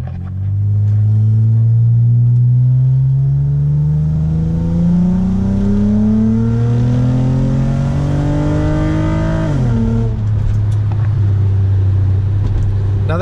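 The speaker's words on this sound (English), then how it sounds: "we'll do a little acceleration in the manual mode" A 2005 Nissan Altima SE-R engine revs steadily upward in pitch as it accelerates in manual mode, drops briefly at a gear change, then settles into a steady drone.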